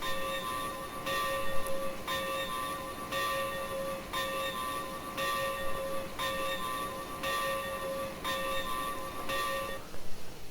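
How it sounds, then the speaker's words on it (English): A steam-operated locomotive bell on an AT&SF Northern in Train Simulator Classic rings in a steady, even rhythm, about ten clear strikes with a slight echo behind each, carrying alone over a low rumble. "The bell is a steam operated bell,"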